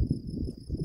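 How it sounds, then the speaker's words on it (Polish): Crickets or cicadas chirp steadily along a quiet, sunny walking route on the Camino Primitivo in May, a continuous high insect trill carrying over soft low background rumble, with no talking. "albo jakieś świerszcze, cykady"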